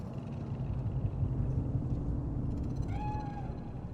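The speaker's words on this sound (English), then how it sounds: "Do you see it? The cat?" A cat in Cyberpunk 2077 gives one clear, rising-then-falling meow near the end, heard over a steady low city rumble.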